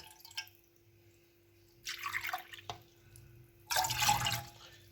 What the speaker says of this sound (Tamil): அதே கப்பால் நாங்கள் ரெண்டரை கப் தண்ணி சேர்த்துக்கொள்வோம்